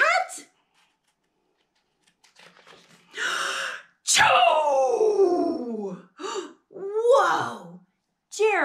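A reader's voice imitates an elephant's big sneeze, with breathy build-up gasps and a loud explosive burst followed by a trailing vocal sound, close and alone.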